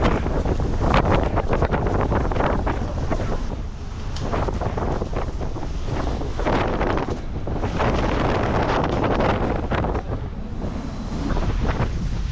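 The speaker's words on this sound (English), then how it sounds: "it is really windy out here" Strong wind buffets the microphone in loud, continuous gusts on the deck of an overnight ferry, with a faint rush of sea water beneath and no voices.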